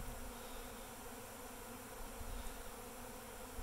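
A honeybee swarm that has just left a large hive fills the air with a dense, even buzzing, steady and moderately close, with no voices.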